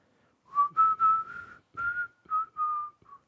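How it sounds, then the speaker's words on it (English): A person whistles a short tune alone and up close, with several clear, bright phrases separated by brief pauses. "people hate when I whistle"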